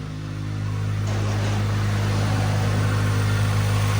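A car engine idles through a Skunk2 Mega Power aftermarket exhaust, with a deep, throaty rumble that swells slightly after the first second, then holds a constant loud drone.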